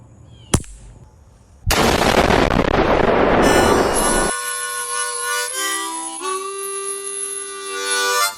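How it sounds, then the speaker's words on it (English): A pellet rifle fires a CCI Stinger round into ballistic gel: one sharp crack sounds early, followed by a burst of loud sustained noise and lingering ringing tones. "let's shoot it with the pellet rifle"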